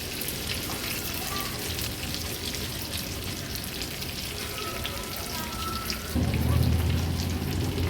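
Brain coated in masala paste fries in hot oil with a dense, constant sizzle and crackle that swells louder near the end; no one speaks.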